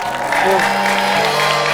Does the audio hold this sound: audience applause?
yes